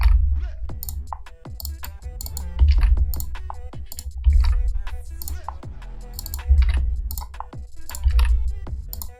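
Keys clack on a computer keyboard as exchange order data is entered for a trade, a steady run of close, crisp taps in short bursts over a low background hum.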